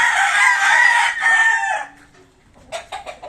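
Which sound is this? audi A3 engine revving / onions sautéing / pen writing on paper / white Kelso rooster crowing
white Kelso rooster crowing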